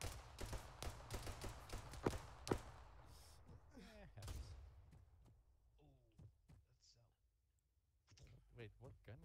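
ACR rifle gunfire in Arma 3, with a rapid string of sharp shots and clicking impacts that thin out into scattered reports, heard under people talking over voice chat.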